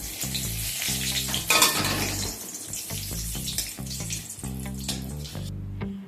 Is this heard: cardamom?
yes